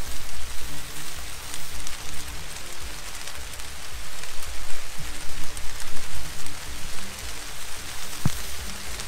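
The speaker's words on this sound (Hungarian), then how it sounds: "Közben az eső is elkezdett esni." Summer rain beginning to fall beside the Csorna-Foktői canal during a fishing trip, a steady dense hiss of drops pattering on surfaces, fairly close and continuous, with no voices.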